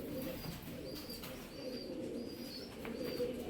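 Caged Punjabi pigeons coo softly and repeatedly in the background, low gentle calls set against a steady hum of noise.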